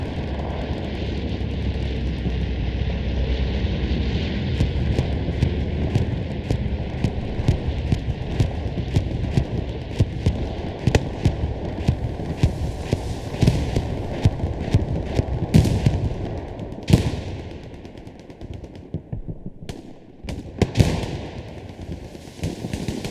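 Bombing-run explosions in the World War II shooter Hell Let Loose during a German counterattack on D-day: a dense run of sharp blasts and cracks over a steady droning aircraft hum, loud and continuous with no voices.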